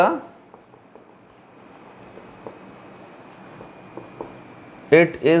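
A teacher writes on a board during a chemistry lesson, making faint, steady scratching strokes with small taps under a quiet room tone. A voice speaks briefly at the very end.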